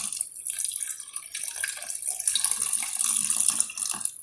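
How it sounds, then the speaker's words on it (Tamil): Water is poured into a coconut milk fish curry, a soft continuous trickling and splashing that runs steadily throughout and swells a little toward the end. "தேங்காய் பாலோட ஒரு 1/2 கப் வாட்டரும் ஆட் பண்ண போகிறேன்."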